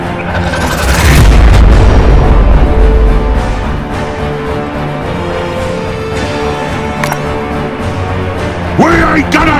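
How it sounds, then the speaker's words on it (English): A grenade explodes in Warhammer 40,000: Regicide, Space Marines against Orks: a loud, deep boom with a long rumbling tail, followed by continuing battle noise and a faint voice near the end. "Throwing grenade!"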